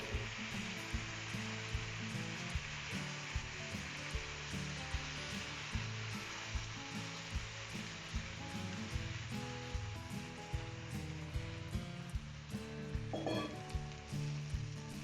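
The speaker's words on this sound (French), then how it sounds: "Quand le caramel est brun, y ajouter la viande et l'oignon." Pork and onion sizzling loudly in a pan of browned caramel for pork chops with Vichy carrots, a dense continuous frying crackle with steady bubbling and regular soft knocks throughout.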